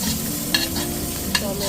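Onions and vegetables fry in a pan for samak rice khichdi, giving a steady close sizzle with two brief stirring scrapes.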